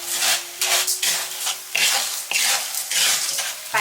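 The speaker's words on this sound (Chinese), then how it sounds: "准备一个炒锅，加入1包粗盐，再加入八角、香叶、花椒、丁香，调中火炒出香味" Coarse salt tossed in a wok over medium heat with star anise, bay leaves, Sichuan peppercorns and cloves, giving repeated gritty scraping sweeps in steady bursts, close and fairly loud, with a faint background hum.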